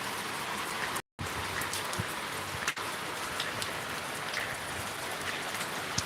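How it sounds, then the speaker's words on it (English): Steady rain falls outdoors during the rainy season, a dense continuous hiss with scattered louder drops pattering close by, with no voices and one brief dropout. "It's raining outside."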